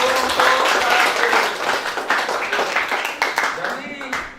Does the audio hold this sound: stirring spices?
no